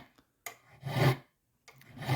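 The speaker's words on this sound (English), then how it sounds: "I'm only filing away the extra backing material" A hand file rasping excess silver backing material from around a bezel while making a silver bezel for a cabochon, two short rubbing strokes separated by silence, close and clear with no talking.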